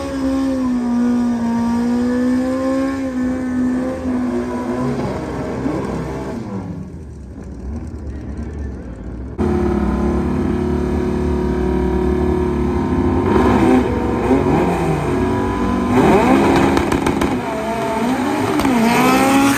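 VW Bug drag race car at a Fast4Cartel Fall Brawl drag strip, loud engine revving and climbing through gears with a brief lull midway, then roaring hard again as it accelerates away down the track.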